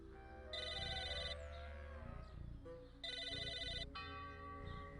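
A phone rings in the video game Psychonauts, two bursts of bright electronic trilling separated by a pause, with a musical game soundtrack playing underneath.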